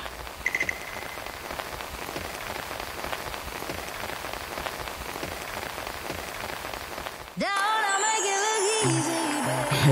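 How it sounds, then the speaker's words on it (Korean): Autumn rain pours steadily on an afternoon at a small house, a dense, close patter of drops on surfaces. Near the end it is joined by a louder tonal sound. "가을비가 주룩주룩 내리는 오후입니다."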